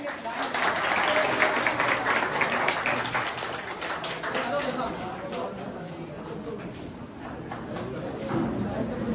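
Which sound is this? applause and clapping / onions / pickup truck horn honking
applause and clapping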